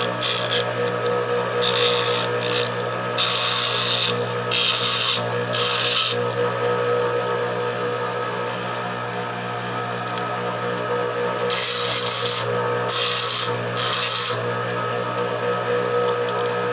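Hand filing on the protruding end of a bolt gives bursts of harsh rasping strokes, several quick passes in a row, a pause, then another run of strokes, over a steady background hum.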